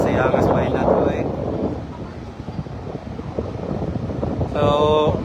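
Strong wind buffets the microphone in a steady rumbling roar at a fire scene with fire trucks in Dumaguete, Philippines, with voices talking underneath and a brief tonal hum near the end.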